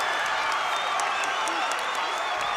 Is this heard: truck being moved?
no